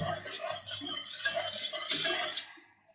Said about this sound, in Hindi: दो से 3 बॉयल आने तक आप इसमें बीटर चलाते रहेंगे